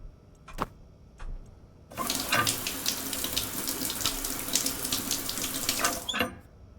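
A shower in the video game Stationeers is switched on after a couple of faint clicks, then water runs in a steady, close, loud rush for about four seconds before cutting off abruptly.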